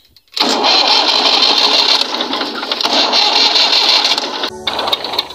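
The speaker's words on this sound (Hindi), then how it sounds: "अब इसमें डालेंगे पानी, स्टार्ट नहीं हो रहा।" A farm tractor's engine is cranked over and over without catching, a steady whirring churn that runs for several seconds, dips briefly, then cuts off near the end; close and loud with no talking.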